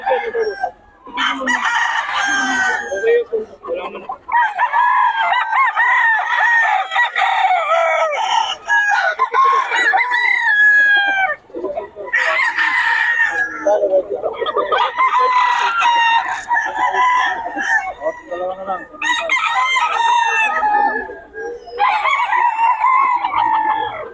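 Young gamecocks (stags) crow and cluck almost continuously in a loud, busy chorus with overlapping calls, likely among many birds at a gamefowl market in Bocaue.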